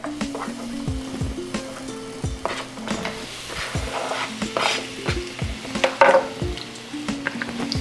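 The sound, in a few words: onions frying in olive oil in a skillet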